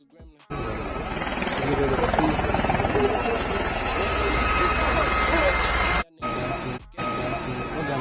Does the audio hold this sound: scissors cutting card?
no